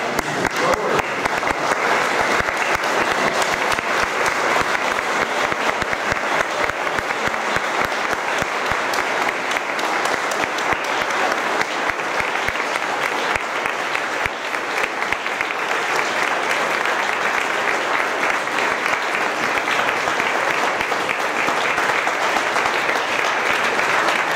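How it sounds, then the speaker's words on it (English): A standing ovation at the Citroën Rendezvous 2015 gathering, dense continuous applause from a large audience lasting well over twenty seconds at steady loudness, with no talk over it. "Can we please give him another standing ovation?"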